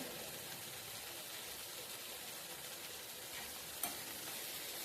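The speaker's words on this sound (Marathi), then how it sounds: "एकदम मध्यम आचेवर आपल्याला ही परतवायची आहे भेंडी" Okra stir-frying in a pan over a medium flame, a steady quiet sizzle with faint scraping of a spatula and one brief clink near the end, no talking.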